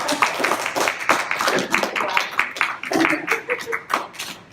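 An audience at a talk at Geekdom in San Antonio claps in loose, scattered bursts, nearby and moderately loud, with voices talking and laughing in between.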